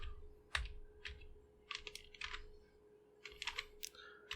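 Keys are tapped on a computer keyboard while someone enters Python if-statement code, giving short quiet bursts of clicking in uneven clusters with brief pauses between, close and alone under a faint steady hum.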